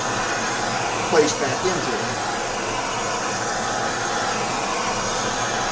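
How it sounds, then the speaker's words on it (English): A MAPP gas torch heats the bearing area of an ATV or dirt bike engine case, giving a steady, even roaring hiss throughout with a few faint clinks and brief speech. "take your map gas and begin to heat the area where your bearing is going to be"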